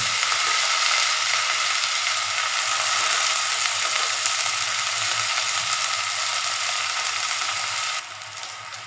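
Drumstick leaves stir-fry with onion in a hot pan, a loud, dense, continuous sizzle with faint scraping, softening slightly near the end.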